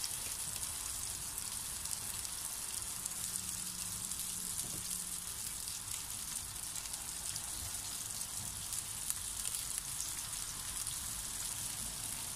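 Sausage frying in a pan while it browns for spaghetti, a steady dense sizzle, hissing and crackling without a break throughout, close and even, with no talk.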